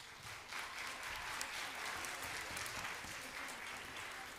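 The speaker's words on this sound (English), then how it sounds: "Let's give them a round of applause." A school audience at a grade 5 band Christmas concert applauds in a sustained, even burst for over four seconds, heard faintly from a distance.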